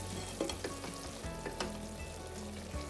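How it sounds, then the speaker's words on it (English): Garlic, ginger and chilies frying with softened, browning onions in a pan, a steady close sizzle broken by scraping stirs of a spoon. "I'm giving it a good stir in, making sure everything's mixed together"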